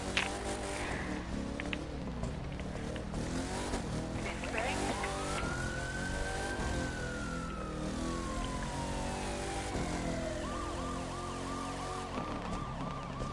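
Police car sirens wailing continuously in a video game, a long rising-and-falling tone sweeping over a dense layer of engine and game noise, with other siren bursts near the end.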